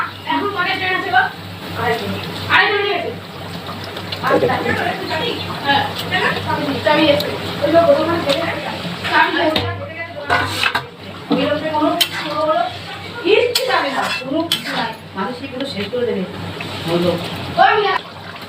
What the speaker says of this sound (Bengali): এখন আমি মাছগুলো একে একে দিয়ে দেবো এর মধ্যে